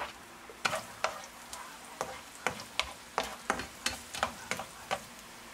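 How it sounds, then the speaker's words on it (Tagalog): Garlic sautéed in oil for homemade chili oil gives a faint sizzle broken by a regular series of sharp scraping stir strokes, roughly two per second, with no talking. "Gisa lang tayo ng garlic"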